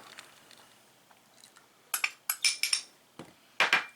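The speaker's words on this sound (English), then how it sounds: "I'm just going to keep mixing it till it gets well blended" A utensil knocks and scrapes against a bowl while an egg is mixed into chaffle batter, with short clinking strokes that come in bursts and then pause, close by, with no voices.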